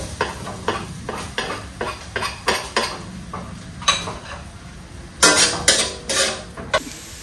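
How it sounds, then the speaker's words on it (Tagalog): Red onion and garlic sautéing in a little oil, with repeated utensil stirring scrapes and soft clinks against a pan over a faint steady sizzle, close and fairly loud. "Sa pagigisa po gagamit lang akong sibuyas sa kabawang na pula."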